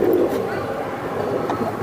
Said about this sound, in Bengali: মাত্র 2000 টাকায় সুন্দর একটা জোড়া কবুতর